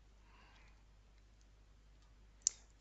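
A single crisp mouse click on an item in Moodle, heard once near the end against a faint, quiet background.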